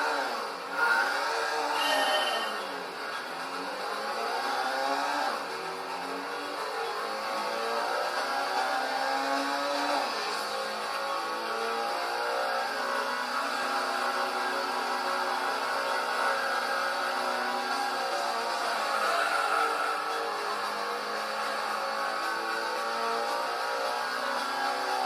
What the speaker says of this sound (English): We got the next test with the Mitsubishi FTO.